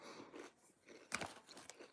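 Someone chews food close to the microphone, giving soft wet crunches and mouth noises in irregular bursts, with one sharper crunch partway through and no talking.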